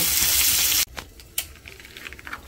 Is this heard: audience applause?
no